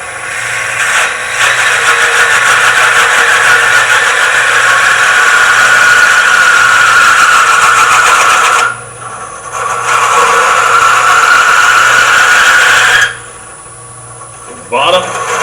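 Wood lathe spinning while a small brown ebony miniature is hollowed out slowly, a steady loud machine whir with a brief dip near nine seconds and a longer pause before it restarts at the end.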